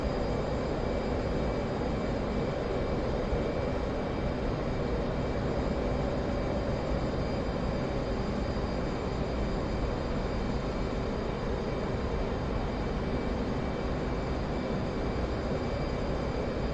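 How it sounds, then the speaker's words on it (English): Warbird aircraft engine in the flight game DCS, a loud unbroken propeller-engine drone holding steady at close range throughout while flying low. "Come on, pull up. Need to get some altitude. I'm coming in way low."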